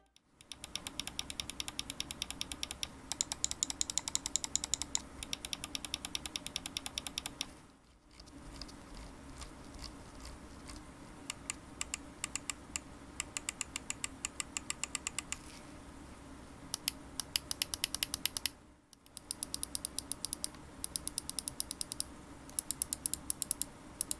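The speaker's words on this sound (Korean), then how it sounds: "좌우 클릭 버튼의 경우는 기계식으로 되어 있음에도 클릭음이 조금 묵직하고" Rapid bursts of crisp mechanical clicking from a SteelSeries Rival 600 gaming mouse's buttons, slightly heavy in tone, come in long runs separated by brief pauses, close and fairly quiet.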